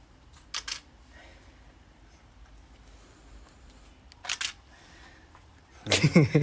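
Camera shutter clicks as pictures are taken among old equipment: two brief snaps spaced a few seconds apart, then a louder flurry of rapid clicks at the end over a quiet room tone.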